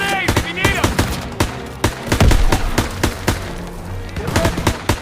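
Gunfire from the Call of Duty WWII PC game: dense, loud bursts of rapid machine-gun and rifle fire overlapping with heavy impacts, with shouted voices mixed into the battle.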